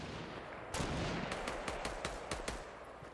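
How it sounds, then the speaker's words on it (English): Gunfire from a battle royale video game, a heavy burst followed by a string of separate sharp shots at irregular intervals, fairly distant and alone without talk. "Sounds like he's shooting."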